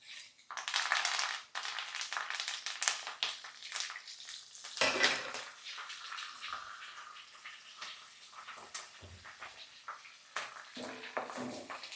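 Tempering of mustard seeds, curry leaves, dried red chillies and crushed garlic crackling in hot oil in a pan, a steady sizzle with spattering pops and occasional metallic stirring clinks, close and fairly loud throughout.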